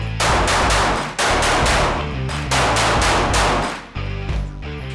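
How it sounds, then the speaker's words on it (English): Glock 43X pistol fitted with a Radian Ramjet fired at an outdoor range, a fast string of loud, close shots in rapid bursts with short gaps between strings, no talking. "now let's go to the range and shoot this thing so we can see how good it reduces recoil and muzzle flip"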